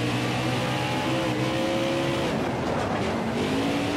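Race car engines roar continuously in a NASCAR Heat 5 dirt series race at Texas, loud and steady with shifting engine pitch as cars run close together, no speech over it.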